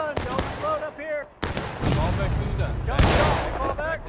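Infantry musket volleys in a War of Rights Civil War battle, sharp broadband cracks at the start, near 1.4 seconds and near 3 seconds, with players talking over the firing throughout.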